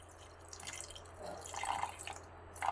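Faint trickling and dripping as a small amount of water is poured into a blender with a ground hair-pack mixture, quiet and close, with a low hum underneath.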